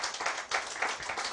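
A church congregation claps briefly during a Spanish-language sermon on the birth of Jesus Christ, a quick burst of many hands heard at moderate distance.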